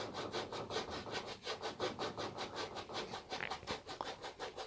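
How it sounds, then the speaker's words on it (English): A dry brush scrubs oil paint into canvas in a fast, even back-and-forth rhythm of about twenty rasping strokes, close up and with no talking. "I'm kind of scrubbing this into the canvas"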